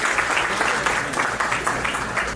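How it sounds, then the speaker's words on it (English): Audience applause at a St. George's Grammar School reunion in Chicago, dense, even clapping from a crowd that holds steady and close for the whole stretch. "Give him a round of applause, please."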